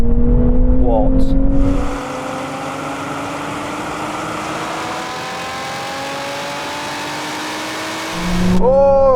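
Four sports cars, a Nissan Z, Lotus Emira, Toyota GR Supra and Porsche Cayman GT4, in a drag race, engines roaring and rising through gears, with a brief spoken word early on.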